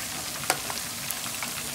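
Cooked dal poured into a hot tempering of mustard seeds, curry leaves and dried red chillies, giving a steady close sizzle and frying hiss with a few small pops.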